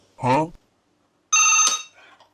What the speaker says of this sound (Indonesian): Ntar telepon dulu dari Pak Jokowi.